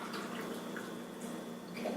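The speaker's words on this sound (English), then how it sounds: "Here's our brine. We've got our vegetables all loaded up, and then all we have to do is pour it over top" Lukewarm brine is poured over vegetables packed in a jar, making a steady, soft trickling and splashing liquid sound that runs throughout without any talk.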